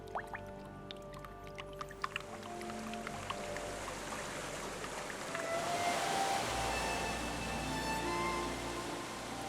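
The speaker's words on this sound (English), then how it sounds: "the Highlands are suddenly full of the sight and sound of waterfalls" Highland waterfalls in spring rush with a soft, broad hiss that swells and grows fuller partway through, under quiet tonal music, all at a low overall level.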